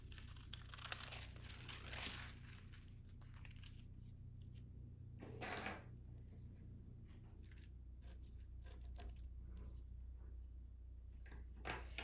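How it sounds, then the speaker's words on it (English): Regular scissors cut paper squares in a quiet room, with scattered crisp snips and rustling of paper sheets, including a louder burst of crinkling near the middle, all fairly close and faint with no talking. "we're going to cut squares that will cover the windows. I just do this with regular scissors"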